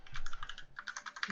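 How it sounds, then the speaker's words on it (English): Rapid typing on a computer keyboard, a quick burst of close, crisp key clicks with a brief pause midway, heard alone with no speech. "typing?"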